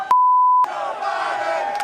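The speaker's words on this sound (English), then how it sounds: "I can hear the chants from the crowd." Rally crowd outdoors chanting "Let's go Brandon," heard as a sustained roar of many voices after a short electronic beep, steady and fairly loud throughout.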